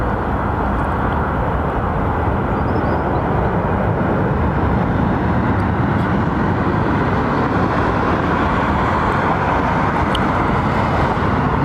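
Steady, loud, broadband roar of an aging Finnair single-aisle jet at London Heathrow Airport, unbroken and close throughout.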